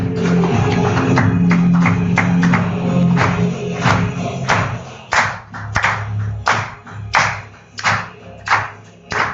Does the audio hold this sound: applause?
yes